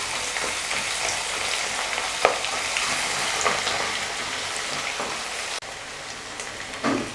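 Garlic sautés in hot oil in a pan while a tomato thokku is being made, giving a steady, close, crackling sizzle with scattered pops and faint stirring scrapes throughout.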